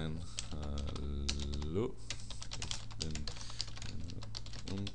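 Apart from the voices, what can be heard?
typing on a computer keyboard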